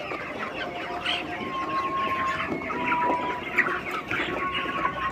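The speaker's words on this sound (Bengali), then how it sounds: "মুরগি খাবার মানে খাবার খাইতে খুব ব্যস্ত।" Broiler chickens feeding on a farm in Bakerganj, Barisal, producing a busy chorus of overlapping clucks and chirps from many birds, nearby and continuous over a low background rumble.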